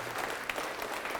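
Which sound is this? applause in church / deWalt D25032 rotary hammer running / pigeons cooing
applause in church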